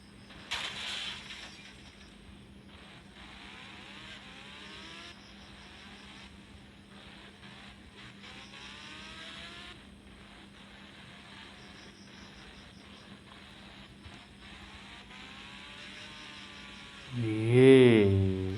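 A bike ridden in a video game gives a continuous buzzing engine whine that rises and falls in pitch, with a louder rough burst near the end, over a constant low background hum.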